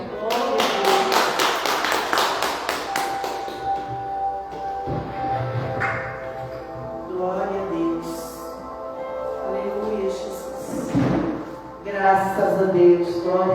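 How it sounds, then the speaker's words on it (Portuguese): A church congregation claps during a family blessing worship service, sharp rhythmic claps up front at first, then looser clapping mixed with voices and tonal sounds in the room. "E as palmas para o Senhor"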